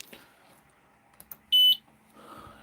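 A single short, sharp electronic beep from an F1 Ultra laser engraver sounds after some quiet clicks and handling noises, followed by soft background hum.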